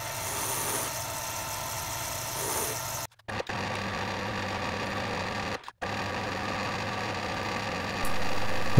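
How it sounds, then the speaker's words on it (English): A lathe runs steadily as a threading tool cuts grooves into a metal expanding lapping tool. A continuous motor hum and cutting noise is broken by two brief silences, and the sound grows slightly louder at the end. "Here I'm adding some grooves using a threading tool"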